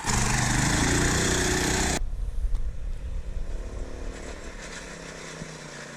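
A small engine flooded with race fuel, with carbon deposits after sitting unused, runs loud and rough, then cuts to a weaker, uneven sputtering idle.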